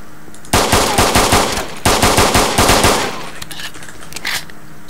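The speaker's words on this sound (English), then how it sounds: "Bullets going over his head." Video game Breach gunfire: two loud bursts of rapid automatic fire, the first about a second and a half long, the second slightly longer, trailing into quieter distant shots.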